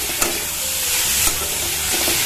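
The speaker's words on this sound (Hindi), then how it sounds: "जब तक हमारा टमाटर गल नहीं जाता है इस तरह से फ्राई करते रहेंगे" Tomatoes fry in cooked masala for a parwal-aloo sabzi, giving a loud, continuous sizzle up close with occasional stirring knocks of a spoon against the pan.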